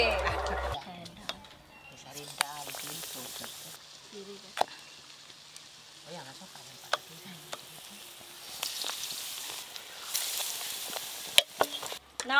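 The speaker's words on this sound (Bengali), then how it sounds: "আমার কিন্তু বেগুনি শুরু হয়ে গেছে, ভাজা হয়ে গেছে" Beguni, battered eggplant fritters, fry in hot oil with a soft, steady sizzle broken by sharp pops and clicks, while people talk now and then.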